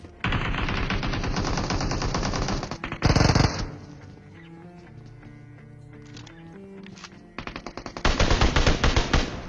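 M16 rifle gunfire in a shooting video game: loud, rapid automatic bursts fill the first few seconds, a brief heavier blast follows, then a quieter stretch before another dense volley closes it.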